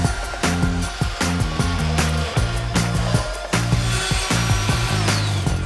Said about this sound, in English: we'll be using our router that's equipped with a router bit that came with our jig